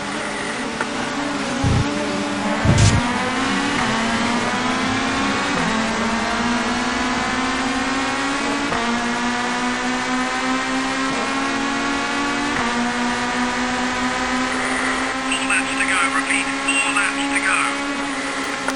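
Touring cars race in the TOCA 2 Touring Cars video game at Snetterton, engines droning loudly with rising and falling pitch as gears shift, a brief crash-like burst early on and other cars buzzing nearby.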